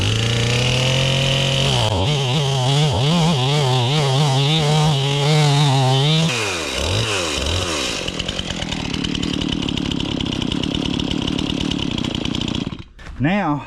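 A freshly sharpened chainsaw roars at high revs, then bogs and growls as it bites through a log, the engine pitch dropping and wavering under load before cutting out near the end.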